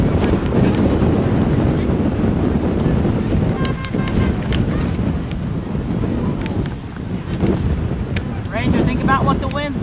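Strong wind gusts buffet the microphone outdoors on a stormy day, a loud continuous rumbling roar with a few faint voices and small sounds poking through.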